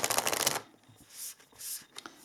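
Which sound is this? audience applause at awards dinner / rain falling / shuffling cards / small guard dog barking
shuffling cards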